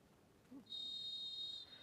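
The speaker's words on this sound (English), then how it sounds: "A referee blows the whistle and we are underway" A referee's whistle at a Santosh Trophy football match at an outdoor stadium in Arunachal Pradesh gives one sustained shrill blast of about a second, faint and distant over low crowd and ambient noise.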